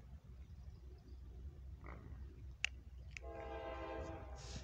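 A CSX coal hopper freight train carrying coke approaches in rural Northwest Ohio in the evening, its horn sounding a sustained blast over a low distant rumble.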